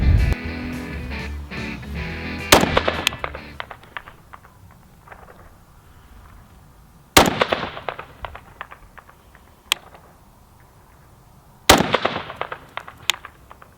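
Rifle shots from BCM carbines with 14.5- and 12.5-inch barrels fired at a 350-yard target outdoors: three sharp, loud cracks spaced several seconds apart, each trailing off in a rolling echo, with faint background noise between.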